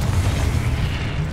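Confringo blasting spell going off in Hogwarts Legacy, a dense, continuous low rumbling boom that holds steady and loud for the whole moment, with no voices.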